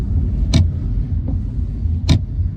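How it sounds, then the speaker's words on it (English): A windscreen wiper with a dry blade on a hatchback car that has been standing a long while, two distinct squeaky swipes about a second and a half apart, with a fainter one between, over a low idling engine rumble. "The wiper's noisy."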